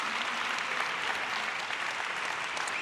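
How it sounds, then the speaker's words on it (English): Steady, dense applause from an audience at the close of a startup pitch day event on stage, continuous and fairly loud throughout with no voices on top. "Big round of applause for our winners, for our jury,"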